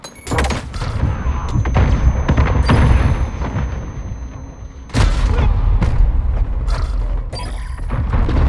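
A grenade blast during a Call of Duty: Modern Warfare PC multiplayer match on Hackney Yard by day, a loud thudding boom at about five seconds amid clattering weapon handling, footsteps and mechanical gear noise, with no voices.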